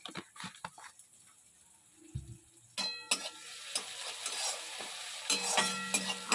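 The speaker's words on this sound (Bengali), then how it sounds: "একটু লাল লাল করে ভাজি এটা পেঁয়াজটা" Onion frying in a pan with a little salt, a soft sizzle that swells after a few quiet seconds, broken by clanks of a spatula and a brief hum partway through.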